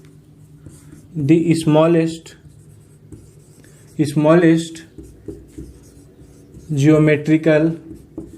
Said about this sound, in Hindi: इसको ऐसे लिखते हैं